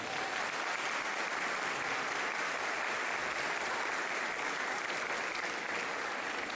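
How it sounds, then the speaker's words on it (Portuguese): Wedding guests applauding during a marriage ceremony after a dog delivers the rings, a continuous, even wash of many hands clapping, sustained and moderately loud without talk. "e eu acho que ele merece uma salva de palmas"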